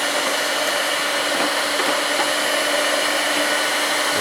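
An electric heat gun blows a steady, loud, even whoosh with no breaks, held close while it warms a stud on a Land Rover engine manifold.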